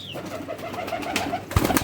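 A pigeon coos in a few soft, throaty pulses at close range in a pigeon keeper's loft setup, with a brief bird call at the start and a louder rustle near the end.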